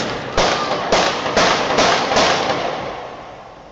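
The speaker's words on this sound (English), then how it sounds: "So this is a video of shooting in Paris, like the terrorist video." Gunfire from a played recording of a shooting in Paris: about five sharp, loud bangs in quick succession, each leaving a ringing tail that slowly fades, with no talk.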